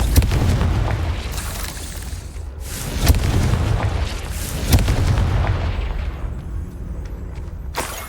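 A Confringo fire spell explodes in the video game Hogwarts Legacy, a series of deep booming blasts and sharp bursts over a rumbling combat background, with one loud hit near the middle.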